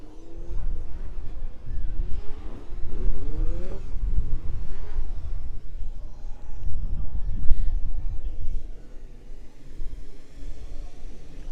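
F2 stock cars accelerate together at the race start at a Taunton oval meeting. A loud, dense engine roar rises in pitch as several cars rev and pull away, and the din stays steady and mid-distance throughout.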